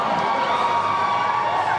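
A large arena crowd at a Las Vegas Convention Center presidential rally roars in a steady, dense wash of cheering and shouting, loud and continuous with no individual voices standing out.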